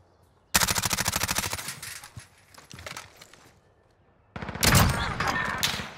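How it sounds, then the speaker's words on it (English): Two long bursts of rapid automatic MP5 submachine-gun fire in a first-person shooter match, loud and close, the first lasting a few seconds, then a pause before a second sustained burst. "Holy shit, that missed all my MP5 shots"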